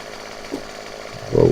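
A chainsaw cuts a long tree in Farming Simulator 17, a low engine drone idling briefly before revving up loudly into the cut at the end.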